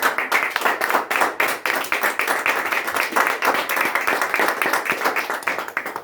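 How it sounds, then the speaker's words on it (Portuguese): Church congregation claps loudly and rhythmically in praise, many hands striking in a quick steady beat throughout, close and bright. "Palmas para Jesus"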